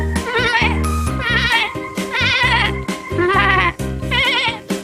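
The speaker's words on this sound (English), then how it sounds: "Goat." Goat bleating in repeated wavering, vibrato-laden calls, loud and close, several bleats in a row over a busy toy-animal background with faint music-like tones.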